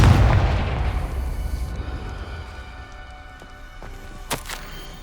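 A Confringo fire spell explodes in the Hogwarts Legacy video game with a heavy, booming blast that rolls and slowly decays, followed by a few faint crackles and a brief bright burst near the end.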